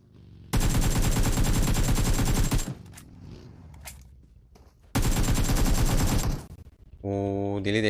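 Automatic gunfire in PUBG Mobile sounds as two long, loud, rapid bursts, each lasting a couple of seconds, with a quieter gap between them, followed by a brief tonal game sound.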